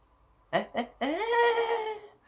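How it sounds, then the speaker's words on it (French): A curious goat on a farm lets out two short bleats followed by one long, wavering, loud bleat, close by with no talk over it. "c'est la chèvre curieuse."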